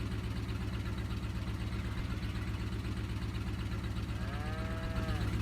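Cows mooing in Farming Simulator 22 on a 1950s farm, a clear rising moo near the end over a steady droning hum of engine-like background noise.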